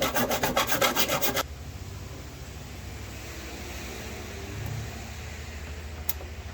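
A hand file rasps against the edge of a hole in the firewall of a 1953 Chevy, enlarging it for a throttle cable, giving a short burst of rapid, gritty close strokes before stopping, then quiet.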